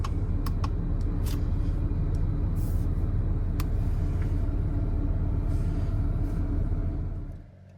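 A 2013 Dodge Grand Caravan SXT wheelchair van idles with a steady low engine rumble, a few light clicks on top, before the sound drops away abruptly at the end.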